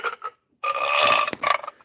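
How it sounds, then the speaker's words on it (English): A single loud, drawn-out burp heard close up, preceded by a couple of short throaty bursts, standing alone without talk. "There's your burp."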